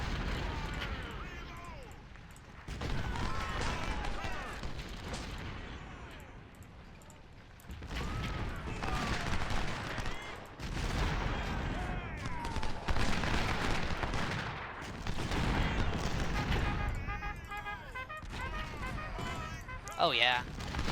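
Artillery guns boom repeatedly in a war strategy video game, heavy blasts and rolling gunfire in bursts across the stretch, with someone talking over much of it.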